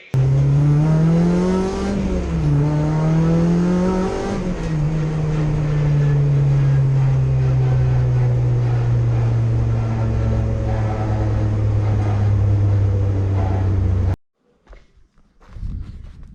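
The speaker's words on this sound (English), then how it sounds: "That's an extremely brief test drive complete." A rebuilt Honda Civic EG race car pulls away on a brief test drive, its engine note droning loudly and steadily close by before cutting off abruptly near the end.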